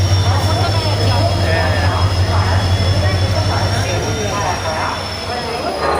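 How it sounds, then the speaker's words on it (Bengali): The 18013 Howrah Bokaro Steel City Express pulls into a station platform at Howrah with a loud, steady rail rumble and thin high wheel squeal, with crowd voices murmuring in the background. "11টা 37-এ ঢুকলো ট্রেন প্ল্যাটফর্মে।"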